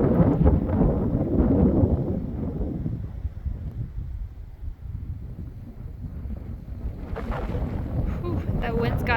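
Wind gusting across a lake shoreline near a creek in spring, a steady loud rumbling roar buffeting the microphone throughout, with a faint brief higher hiss near the end.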